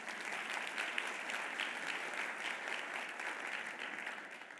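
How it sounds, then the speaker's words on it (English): An audience at a charity luncheon claps steadily, a dense, even wash of many hands applauding together from start to finish, moderately loud and unbroken. "Clap if that meant something to you"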